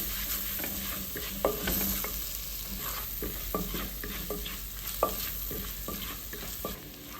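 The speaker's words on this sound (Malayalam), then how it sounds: "സവാള പെട്ടെന്ന് തന്നെ സോഫ്റ്റായിട്ട് വഴറ്റി കിട്ടാൻ അത് ഭയങ്കര സുഖമായിരിക്കും" Onions stir and sauté in a pan for Kerala-style fish head curry: a soft continuous sizzle under repeated scraping strokes of a spatula, coming in a loose, steady rhythm, fairly quiet and close.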